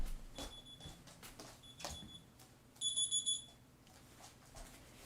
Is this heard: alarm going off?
yes